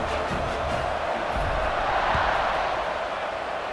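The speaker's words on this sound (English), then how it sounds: "this crowd is buzzing after that last score" Football stadium crowd at a Pittsburgh at Syracuse game, a steady roaring buzz of many voices with scattered cheers, tied late in the fourth quarter after a score.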